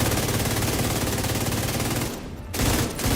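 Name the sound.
rapid gunfire in The Division 2 video game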